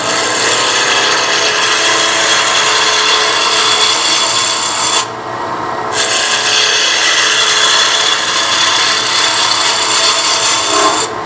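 A gouge on a wood lathe roughs out a spinning Christmas ornament blank into a tapered cone, a loud, continuous scraping hiss that pauses for about a second midway before resuming.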